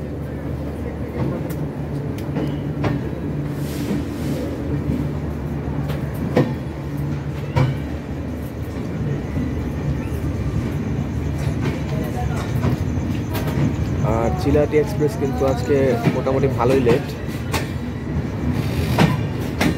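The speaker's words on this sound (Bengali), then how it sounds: "আমাদের পঞ্চগড় এক্সপ্রেস কিন্তু টাঙ্গাইল ছেড়ে দিয়েছে" The Panchagarh Express rumbles along the rails after leaving Tangail, with a continuous low roar and rhythmic clickety-clack from inside the carriage, while someone talks over it.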